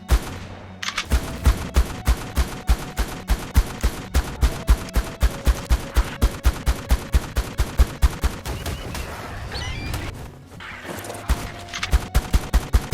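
Rapid, steady gunfire pours from a distance at an alpha T-Rex in the ARK survival game on The Island, with shots cracking in a regular rhythm for most of the span and a brief lull near the end.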